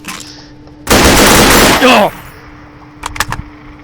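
A loud burst of rapid gunfire lasting about a second, followed by a brief ricochet-like whine and a few sharp clicks, with a low steady hum underneath.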